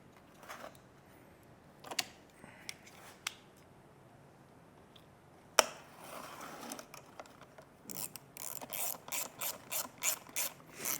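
Ratchet tightening a nut on a homemade plastic wake shaper: scattered clicks and pauses, then a run of quick, regular ratcheting bursts, close and fairly quiet.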